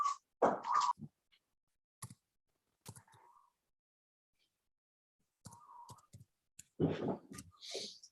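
Sharp mouse clicks on a website button, a few isolated clicks spaced across near-silence with brief bits of quiet talking between them.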